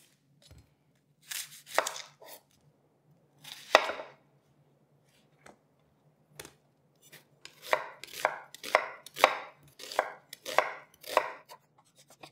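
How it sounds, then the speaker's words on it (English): Knife finely chopping an onion on a cutting board, a few scattered strokes at first, then a quick steady run of close, crisp chops; no talking. "we're gonna start off by finely chopping an onion"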